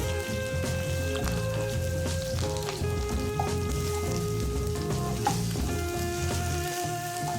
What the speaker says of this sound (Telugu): ఈ అల్లం వెల్లుల్లి పేస్ట్ పచ్చివాసన పోయే వరకు వేగనివ్వాలి